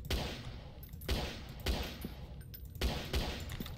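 Gunfire in a Jeff the Killer asylum horror video game, heard as a few sharp, loud shots spaced roughly half a second to a second apart over a steady background din, with no talking.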